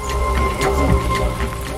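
Steady rain falls during a picnic in Franche-Comté, a dense continuous patter close by with a low rumble underneath.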